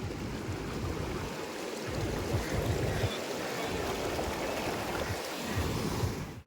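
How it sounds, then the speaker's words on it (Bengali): A stream near Daringbadi falls forcefully at a waterfall, producing a loud, steady broadband roar of rushing water with a few brief dips. "এখান দিয়ে জোরে এসে জলটা পড়ছে"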